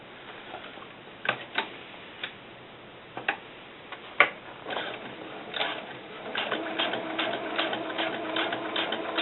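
A sewing machine stitches vinyl without a walking foot, giving sparse ticking knocks that build into a faster, steadier run of stitching.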